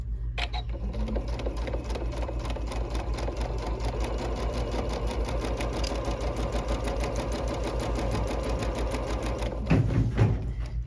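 A Janome 15000 sewing machine stitching a concealed zipper runs steadily at speed, a rapid, even mechanical needle chatter with a low motor hum, close and continuous, with a brief clunk near the end.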